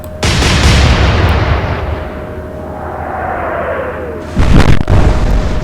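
Naval guns fire from a warship in the Atlantic Fleet video game: a heavy roaring blast rolls on for several seconds, then a second sharp booming volley strikes near the end, loud and without talk.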